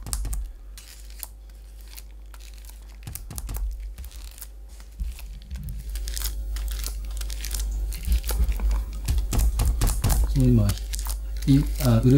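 Stiff paper resembling oil paper crinkles and rustles in close bursts during lacquer work in a Tsugaru-nuri lacquer workshop, while a person talks over it.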